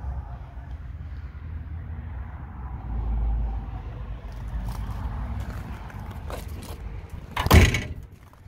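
A 1970 Oldsmobile's old car door shuts with one loud, solid thunk near the end, after low rumbling and faint handling noises.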